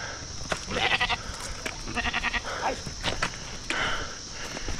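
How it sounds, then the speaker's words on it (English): A goat running loose on a mountain path in Nepal bleats several times, with footsteps and scuffling close by and crickets chirping faintly in the background. "The goat is running loose."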